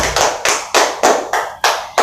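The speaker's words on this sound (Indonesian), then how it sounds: "Bisa beri tepuk tangan untuk kelompok 1" Classroom applause for a student group in a 4th-grade class, eight short sharp bursts of clapping in a steady rhythm, close and fairly loud with no talk.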